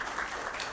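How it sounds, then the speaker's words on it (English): Steady applause from an audience at a Ugandan innovation challenge event, a brief continuous wash of clapping with no voices on top. "A round of clap for Mr."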